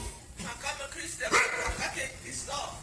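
A police dog barks in sharp bursts during a tense police standoff, loud and close amid overlapping shouting voices.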